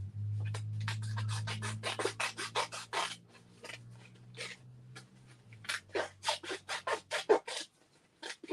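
Scissors snip through cardstock while a Z-fold card is being cut out, a steady run of close, crisp rasping cuts with brief pauses, alone without talk.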